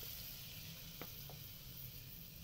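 Mango fritters of soft batter frying in hot oil in a kadai, a steady close sizzle running throughout with a couple of brief light clicks, no voices.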